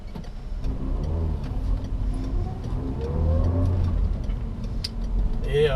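A 2006 Peugeot 307 Feline three-door with a 2-litre 180 hp engine from the 206 RC idles steadily close by. The low hum swells slightly midway, with a faint voice underneath.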